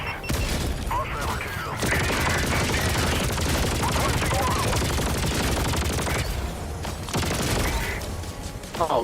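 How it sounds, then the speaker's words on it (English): Sniper fire and other gunshots crackle through a video game battle, dense and loud bursts running almost continuously with a player's voice underneath. "I just got like sniped from probably 90 meters away"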